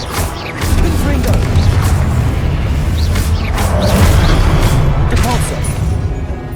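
A Confringo fire spell blasting in Hogwarts Legacy, a loud sustained whooshing roar with crackling bursts that runs steadily through most of the stretch, with booming impacts and game effects layered in.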